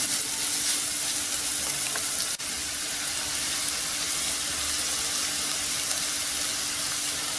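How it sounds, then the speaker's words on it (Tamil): Curry leaves, green chillies and carrot pieces sizzle steadily in a hot pan with oil, a loud continuous frying hiss that holds unbroken, with no voices heard. "கறி பீஸையும் பச்சை மிளகாயும் சேர்த்துருவோம். கொஞ்சம் ப்ரௌன் கலரில் வதங்கட்டும்."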